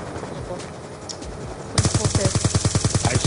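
Rapid automatic gunfire in a Call of Duty style shooter game on a hardcore Kill Confirmed match bursts in halfway through, a loud fast rattling string of shots after a quieter stretch of game ambience.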